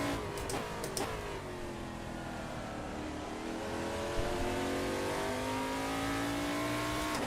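LMP3 prototype race car engine in a racing video game, a steady high-revving drone with rising and shifting pitch and a few brief clicks early on, loud and continuous.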